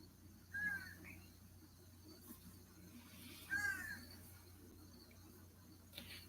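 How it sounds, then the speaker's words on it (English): Two short, faint bird calls from outside an open window ring out a few seconds apart over a quiet hiss of outdoor ambience. "I have the windows open in here today, so we may hear birds"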